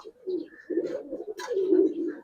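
A coloring pigeon perched on a hand gives close, low throaty coos in two or three rolling phrases, with a soft flutter in between.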